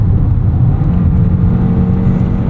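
A 2026 Kia K4 Hatchback GT-Line with a turbocharged engine accelerates, giving a loud, steady engine drone and whir heard from inside the car, with no one talking.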